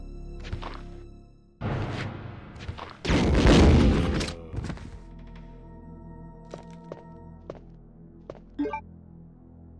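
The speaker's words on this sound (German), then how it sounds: "Ich finde es sehr sympathisch, dass da drei Schüsse rauskommen." A gun fires three-round bursts in the survival horror game Resident Evil 2. Loud clustered shots and echoing blasts come early, followed by sharper, isolated cracks spaced apart.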